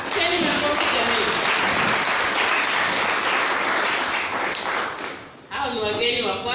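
A church congregation at a Sunday worship service bursts into loud, sustained applause that fills the room, briefly dipping before swelling again; a voice is heard talking over it.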